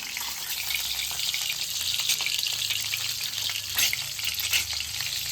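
Onion and crushed garlic frying in oil for an egg and potato curry, a continuous dense sizzle with occasional sharper crackles, close and fairly loud, with a low background hum and no voices.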